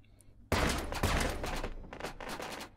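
Gunfire in the VR shooter game Take & Hold bursts out after a quiet moment as a rapid fusillade of loud close shots, with several more cracks and volleys that follow over the next seconds.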